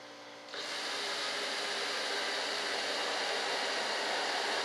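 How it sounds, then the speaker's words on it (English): A drill bit boring alignment pin holes into an RC F-105 Thunderchief jet model, starting abruptly after a brief pause and then running as a steady, close, continuous whirring grind. "What I'm going to do is I'm going to use the old drill bit method here."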